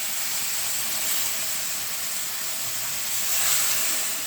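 A splash of water goes into a hot pan of spices for a Bengali dhoka of pointed gourd, ridge gourd and mung dal, giving a steady, loud steam hiss that swells briefly near the end.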